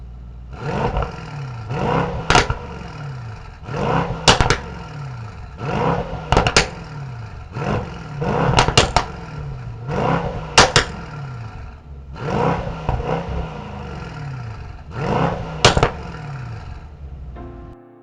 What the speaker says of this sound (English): hear how that AMG performance exhaust system sounds connected to this beautiful 4-liter bi-turbo